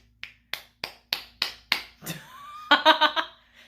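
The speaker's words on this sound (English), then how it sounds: "we actually hear clapping all of a sudden" Six sharp claps sound in an even, steady rhythm, nearby and crisp, followed by a brief burst of lively vocal sounds, from the anime Danmachi.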